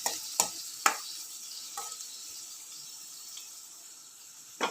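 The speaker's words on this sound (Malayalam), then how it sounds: "കറിവേപ്പില ആദ്യം വറുത്ത് കോരുക" Curry leaves fry in coconut oil with a soft, continuous sizzle and a few sharp crackles and spatters near the start, close by with no talking.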